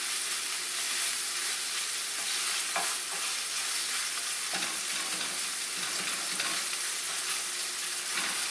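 Hamburger meat fries over medium heat in a pan, with a loud, continuous close sizzle broken by occasional scraping stirs and no talking.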